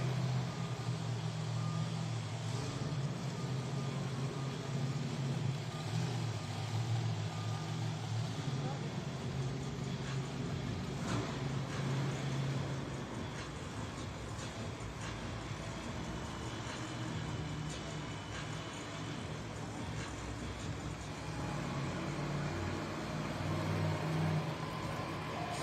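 Monster truck engine roaring at a Monster Jam arena event in Raleigh, NC, during a two-wheel skills challenge, a sustained loud rumble that dips midway and then swells again, with an announcer talking over it and crowd noise behind.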